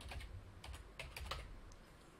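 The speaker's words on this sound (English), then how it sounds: "I'm just going to type in." Steady typing on a computer keyboard while entering login details, a run of soft close key taps in irregular bursts with a few pauses, alone and fairly quiet.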